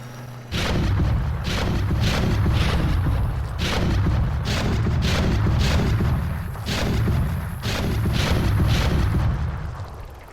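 StarCraft tanks fire artillery in a rapid series of heavy booms, each with a sharp crack and a rolling rumble. The shots overlap into a dense, loud barrage that lasts about ten seconds.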